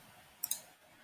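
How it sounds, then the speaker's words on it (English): Quiet clicks from the Tab key being pressed on a computer keyboard, two short taps in quick succession in the middle of an otherwise near-silent moment. "I just click on the tab button on my"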